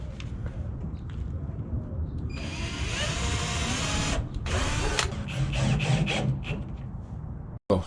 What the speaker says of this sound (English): I'm drill pilot holes and then screw it in